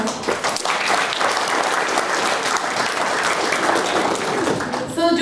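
A crowd gives parents a round of applause at a children's event. The clapping is steady, dense and fairly loud for about five seconds before it stops abruptly.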